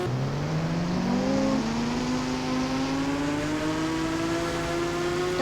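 A Kawasaki motorcycle revving to climb a ramp, its engine note held loud and close and rising steadily in pitch as it pulls, with no talking.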